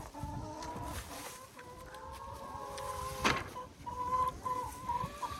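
Hubbard chickens raised from day-olds on a homestead, clucking and murmuring nearby in low, continuous calls, with a few louder squawks and no talking.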